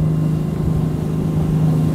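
An Oxe 300 hp diesel outboard engine runs on a 34 Cape Horn boat at about 15 mph, a steady close, loud droning hum with a strong low tone and constant churning, no voices.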